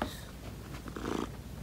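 A cat sits under an old desk purring while waiting for dinner, a soft close rumbling purr with a few breathy snuffles, heard alone over a short stretch.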